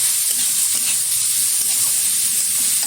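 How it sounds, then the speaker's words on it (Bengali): Loud, close hissing sizzle of a cabbage paturi mixture with prawns cooking in a pan, with a few soft stirring scrapes over a few seconds and no voices. "এবার একটু নেড়ে চেড়ে নিচ্ছি"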